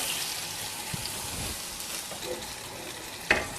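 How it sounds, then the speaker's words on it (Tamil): Steady loud sizzling and frying of an ivy gourd gravy fills the clip, with a few soft clinks and a brief sharper hiss near the end as rinse water from a mixer jar hits the hot pan. "இந்த மிக்சி ஜார் கழுவி வச்ச தண்ணியை ஊற்றிக்கலாம்"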